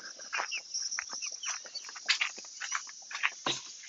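Chickens cluck close by in a backyard coop, a busy run of short, uneven clucks and murmurs, a few louder calls rising above the rest.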